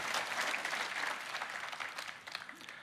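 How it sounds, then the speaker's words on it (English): Keynote audience at a developer conference claps in sustained, dense applause that fills the room evenly throughout, tapering slightly toward the end with no talking over it. "I want to give them a round of applause"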